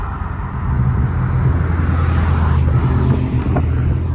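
A Dodge Scat Pack's engine and exhaust rumble steadily beneath a bridge while driving through traffic, a continuous loud low drone with wind buffeting and no clear talk.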